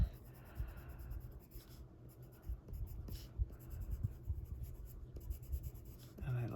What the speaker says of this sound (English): I'm doing it with the colored pencil as opposed to just putting more of the white pastel on